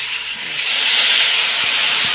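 Water from a rinsed bowl hits a hot pan of frying potatoes and spices, bursting into a loud, close, steady steaming hiss that swells and holds, with a few faint knocks underneath.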